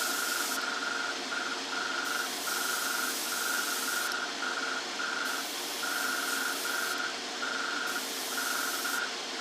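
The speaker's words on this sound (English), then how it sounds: "I always find that the Tamiya metallics spray lovely." An airbrush sprays Tamiya metallic paint onto a 1:35 scale T-55A tank model, a close, continuous hiss that swells and eases in pulses as the trigger is worked, over a steady booth hum with no talk.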